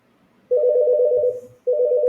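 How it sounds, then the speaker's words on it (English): A telephone rings nearby with a loud electronic tone, one long ring followed by the start of a second after a brief pause. "I'll pause this while I answer the phone."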